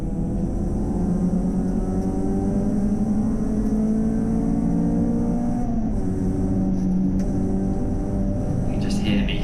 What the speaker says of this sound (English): You just hear me hesitating on the throttle.